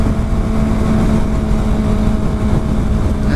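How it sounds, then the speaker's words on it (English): A Yamaha R1 motorcycle engine running loud and steady, a close continuous rumbling drone with a constant hum and some wind noise, no talk. "R1 is fucking loud"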